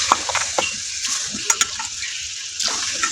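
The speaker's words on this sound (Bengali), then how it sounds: "মশলা খুব সুন্দর করে কষিয়ে নিয়েছি।" Spice paste for a mutton and potato curry is sautéed in a pan, stirred and scraped in irregular strokes over a soft sizzle, close and moderately loud, with no voices.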